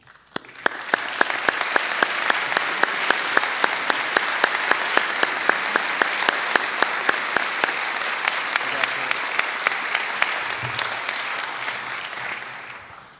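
An audience applauds an award recipient at an Ohio Wesleyan alumni weekend, steady clapping with crisp individual claps standing out close by, gradually thinning near the end.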